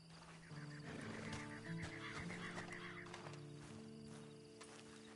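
Horse neighing in Red Dead Redemption Online: a long whinny with a wavering upper pitch, with hoof clops and steady game ambience underneath.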